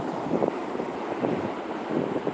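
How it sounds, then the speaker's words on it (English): Night surf washing onto a beach, a steady broadband roar with slow swells of loudness and some wind buffeting on the microphone, no voices. "I'm sure you can hear the ocean okay."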